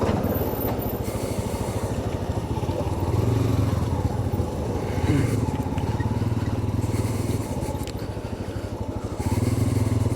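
A motorcycle rides off-road down a steep, rocky slope, its engine a loud, steady close drone with slight swells and dips in intensity, with no voices.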